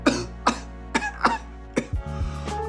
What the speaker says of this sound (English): bending over and expelling forward helps get those big coughs out